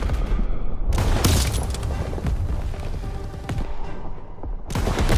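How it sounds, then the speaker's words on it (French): Heavy gunfire and booming blasts as ammunition supplies are blown up in Call of Duty WW2, with dense loud bursts at the start and end and a rumbling, crackling stretch between them. "Daniel, trouve un fusil à lunettes et tire sur ces packs. Fais sauter les réserves de munitions."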